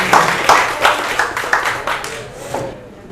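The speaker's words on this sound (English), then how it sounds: "Give him a round of applause" Applause from a small audience at a networking event, a brief burst of scattered clapping that fades out over about three seconds.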